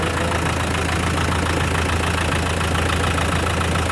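A Land Rover 110 with a 300Tdi diesel engine and 5-speed, carrying a coolant fault, idles steadily from a cold start, a loud, even knocking rumble held close and unbroken throughout.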